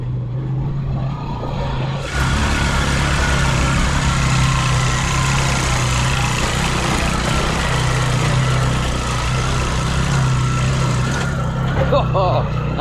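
A motorcycle engine drones steadily while riding on a road in India near Jaipur, a loud continuous low hum that swells after a quieter start, with wind noise over it.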